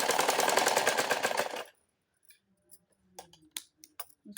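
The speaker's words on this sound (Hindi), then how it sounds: "गले में सिलाई लगाते हुए इस तरह।" A sewing machine stitching along a blouse neckline runs in a steady, fast, loud buzzing burst for about a second and a half, then stops, leaving faint scattered clicks and small handling noises.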